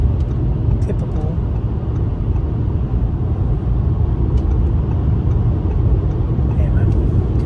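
Audi A6 TDI C7 sedan on the highway with new tires: a steady low road and engine rumble with tire hiss, even and continuous from inside the cabin.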